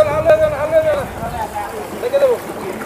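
A boat travels over a flooded national highway between Belonia and Udaipur in Tripura. Its rumbling movement and wind buffeting run throughout, with a voice talking over it.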